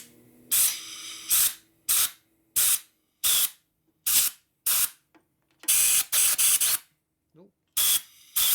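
Compressed air blasting a stainless steel piece out of a 1990 Harley-Davidson FXR rear master cylinder area, roughly a dozen sharp, loud bursts of hissing air in an uneven rhythm, close by.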